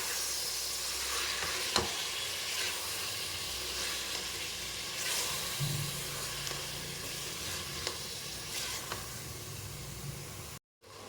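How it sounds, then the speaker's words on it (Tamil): Tomatoes sizzle and fry in a pan for tomato rice, a steady bright hiss with occasional sharp stirring scrapes and pops, close and continuous with no talking. "இப்போ தக்காளியை நல்லா வணக்கிக்கலாம்"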